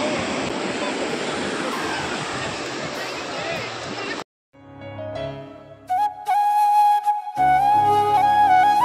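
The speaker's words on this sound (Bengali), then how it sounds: "অনেক দূর থেকে কত সুন্দর সুন্দর ঢেউ আসছে" Sea waves roll in on the beach at Digha, a broad rushing surf that fills the first half before cutting out abruptly. Quieter tonal sounds and a few brief bursts follow.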